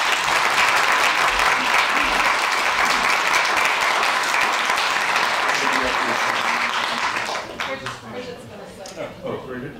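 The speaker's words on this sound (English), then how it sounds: "A round of applause, please." Audience applause after a talk at a commemoration of the Black Patriots of the Battle of Guilford Courthouse, loud and sustained for about seven seconds, then fading out as a voice begins speaking.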